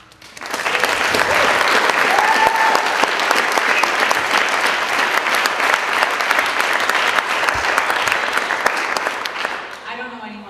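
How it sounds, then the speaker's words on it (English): A TEDx audience at a public library in Butte gives a sustained round of applause for Lee Miller, loud and steady for about ten seconds before tapering off near the end. "we should give a round of applause to Lee Miller"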